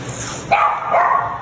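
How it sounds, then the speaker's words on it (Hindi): Sheru, a small dog, lets out two quick, loud barks close by, one after the other, with no one talking. "ये देखो कुत्ता, इसका नाम है शेरू, बहुत भोंकता है सारा।"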